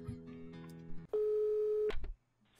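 A phone ringing in the video game Rogue State, a single sustained electronic tone cutting in after a low droning music bed, ending abruptly, with no talk.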